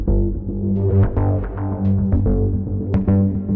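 A dry fireworks synth patch plays a short melodic line of tonal notes with sharp, bright attacks, clean and unprocessed, alone and fairly loud.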